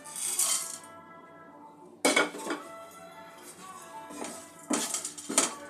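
Whole spices are stirred while dry-roasting in a hot kadai for chicken masala, the metal spatula scraping and clinking against the pan in short clattering bursts separated by quieter pauses, with no one speaking.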